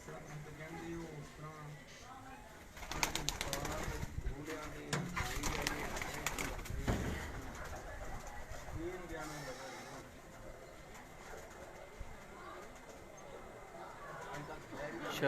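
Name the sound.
pigeons cooing on a rooftop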